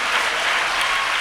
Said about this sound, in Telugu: ఎంత గట్టి కొడతావు అంత గట్టిగా చప్పట్లు కొట్టు